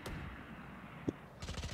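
Valorant gunfire sounds as a single shot, then a brief pop, then a rapid burst of automatic fire near the end, all fairly quiet.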